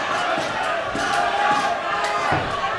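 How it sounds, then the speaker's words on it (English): A live MMA crowd at a pro fight event roars in a steady, dense wash of voices, with scattered shouts and a few sharp thuds rising over the continuous noise. "the crowd, you can hear them starting to get into it"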